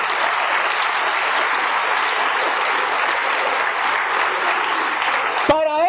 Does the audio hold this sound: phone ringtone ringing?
no